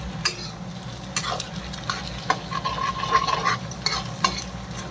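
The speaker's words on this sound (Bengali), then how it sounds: "এগুলো দিয়ে ডিমটা একটু ভেজে নিই মধ্যখানে।" Egg sizzling and frying in a pan for Chinese noodles, a steady crackling hiss broken by occasional scrapes and stirring clatters from a utensil, close and fairly loud with no talking.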